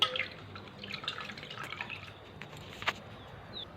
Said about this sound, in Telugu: వీటిని చక్కగా ఉప్పు పసుపు వేసి వాటర్ వేసేసి ఒక 3-4 సార్లు నీట్గా కడిగేసుకోండి